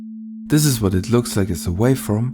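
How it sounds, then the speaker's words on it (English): A pure sine wave tone holds one steady, flat pitch, sounding alone for half a second and then continuing unchanged beneath a voice explaining audio signals. "What you're hearing right now is a simple sine wave."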